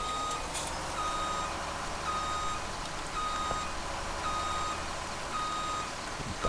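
A truck in Farming Simulator 2017 reverses with a steady, evenly spaced series of high backup beeps over a constant engine hum, with no talk.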